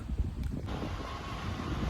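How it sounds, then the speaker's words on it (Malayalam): Strong wind on a hilltop near Kochara in the Idukki hills buffets the microphone as a steady, rumbling roar with gusty low-end thumps, close and continuous, and no one speaks over it. "മോളിൽ ചെന്ന നല്ല കാറ്റുമാണ് നമ്മൾ പറയുന്ന ഒന്നും കിട്ടത്തില്ല"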